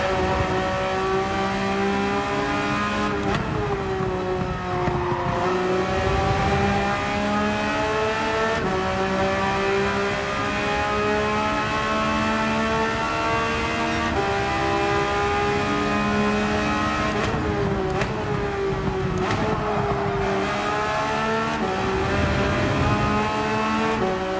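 A race car in Gran Turismo 7 roars steadily at high revs, the engine note climbing and dropping through gear changes and corners without pause, loud and continuous.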